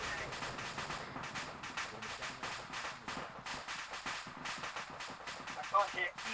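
Rapid gunfire and explosions in a war video game, with steady crackling shots and occasional thuds. Voices talk over it throughout.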